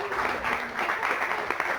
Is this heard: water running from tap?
no